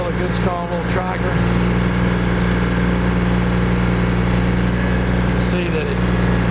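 A 2003 Kubota BX2200 hydrostatic compact tractor's engine runs steadily and smoothly, a loud, even idle close by with no gaps, a couple of brief clicks or squeaks over it.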